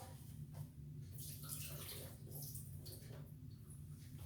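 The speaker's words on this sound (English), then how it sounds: "So let me drain the water off." Water drained off potatoes from a pot pours and splashes steadily, a continuous rushing trickle at close range, with no talking.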